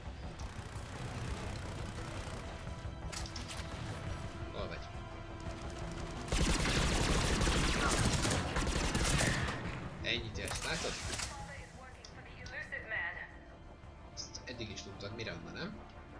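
Gunfire in the video game Mass Effect 3 crackles in bursts among engine-like hum and game effects, with a loud dense volley in the middle before it tapers into scattered shots; a voice talks over parts of it.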